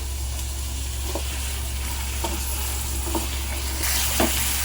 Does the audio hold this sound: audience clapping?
no